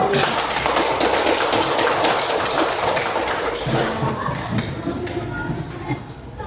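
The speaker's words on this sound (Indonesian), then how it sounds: "Tepuk tangan dulu." A classroom of students claps hands together in a dense, scattered patter mixed with voices, loud at first and then thinning out and fading over the last couple of seconds.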